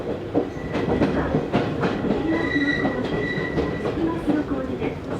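Izu-Hakone Railway 3000 series electric train running between Mishima and Shuzenji, heard from inside with steady rumbling wheel noise, rhythmic clicks over rail joints and faint high wheel squeal throughout.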